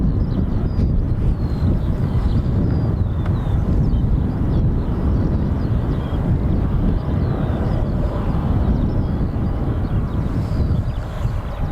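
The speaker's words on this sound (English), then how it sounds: "WestJet pushing back as well." WestJet airliner pushing back at Dublin Airport, a steady broadband engine rumble that holds level throughout, mixed with wind buffeting at the microphone and no speech.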